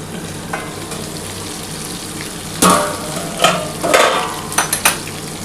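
Desi tangra fish fry in a pan for mustard curry, a steady close sizzle and crackle with occasional sharp spatters and scraping as the pieces are turned.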